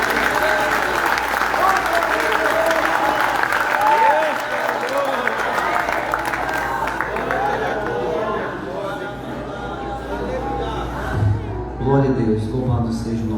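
A church congregation claps in sustained loud applause through the room, with many voices talking and calling out together over the clapping as it slowly thins toward the end.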